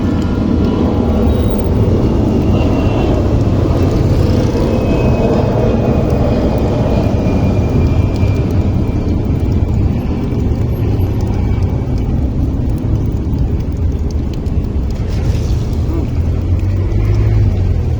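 Steady motor traffic roll on a wet, rainy street, with motorcycles passing continuously and blending into a dense, loud wash of road noise and faint background voices.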